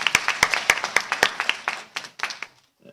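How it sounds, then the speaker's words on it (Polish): Applause for an award at a children's poetry and song contest final in Strzelno, with a crowd clapping in a steady, fairly loud burst that thins out and fades near the end. "mogą być brawa, bo to, bo to jest nagroda"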